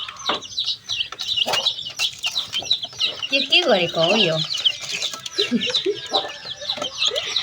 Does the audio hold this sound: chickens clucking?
yes